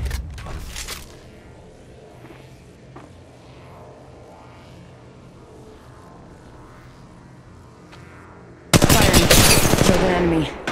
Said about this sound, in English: I'm taking shots. Open fire.